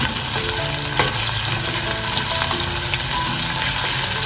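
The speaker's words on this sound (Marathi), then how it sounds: "कांदा लसूण मस्त फ्राय झालेला आहे" Chopped onion and five or six garlic cloves fry in hot oil in a kadhai, giving a steady, loud, close sizzle that runs unbroken throughout, with faint stirring underneath.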